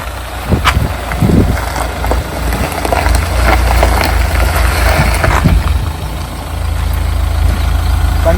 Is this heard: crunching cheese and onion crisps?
no